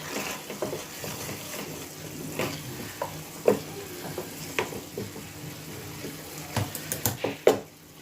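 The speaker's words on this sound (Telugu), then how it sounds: "ఇప్పుడు దీన్ని ఏం చేద్దామంటే ఒక నిమిషం ఇలానే కలపాలి" Kalakand milk sweet mixture made from split milk, with chopped almonds, stirred in a pan: scraping stirs and soft sizzling with a few sharper knocks of the spoon against the pan, close by and fairly quiet.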